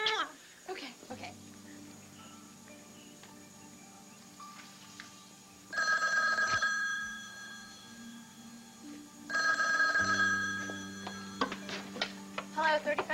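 A telephone rings in two long electronic bursts separated by a pause, set in a home scene from a 1990s soap opera, with faint background tones and ticking between the rings.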